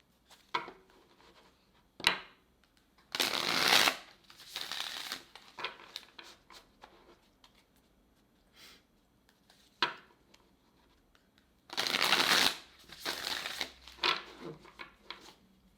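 A deck of spirit animal oracle cards is shuffled by hand in short bursts of crisp riffling and flapping, separated by quieter taps and clicks of cards being handled, close and alone without speech.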